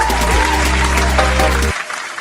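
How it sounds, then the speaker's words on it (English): A loud burst of clapping over a background music track ends abruptly, leaving quieter crowd noise behind. "All right, round of applause."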